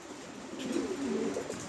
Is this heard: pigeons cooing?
yes